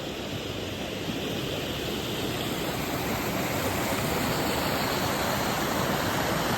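Devkund waterfall in Odisha pouring down a rocky hillside, a steady, loud, unbroken roar of falling water that fills the whole moment with no voices.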